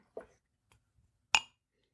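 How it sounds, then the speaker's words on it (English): An etched rocks glass gives a bright clink as it is picked up, with a softer knock before it and a single sharp ring near the end, close and alone without talk. "Grab the closest glass I had, which is my Blind Tasting Podcast Etched Rocks glass."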